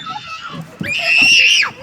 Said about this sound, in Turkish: Bağırmayın Hiva.